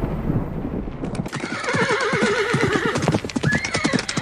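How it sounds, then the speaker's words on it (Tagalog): A white horse neighs with long wavering whinnies over galloping hoofbeats, loud and close, the hooves pounding steadily throughout. "kasabay ng paglitaw ng puting kabayo na tumatakbo"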